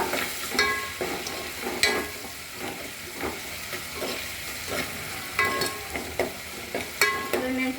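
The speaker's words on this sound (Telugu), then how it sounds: "అల్లం వెల్లుల్లి పేస్ట్, పచ్చి వాసన పోయేదాకా వేయించుకోవాలి" Ginger garlic paste fries in a pan with a continuous close sizzle, punctuated by irregular spatula scrapes and taps against the metal as it is stirred.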